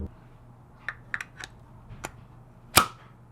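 Works Bell quick release steering wheel hub on an RB-swapped Nissan S13, a few sharp metallic clicks and snaps up close, ending in one louder clack, over a faint steady hum.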